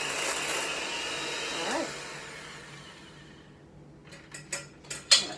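An electric hand mixer whips cream for a small tiramisu, a steady whirring drone that gradually fades and thins, ending in a few sharp clinks and taps of beaters against the bowl.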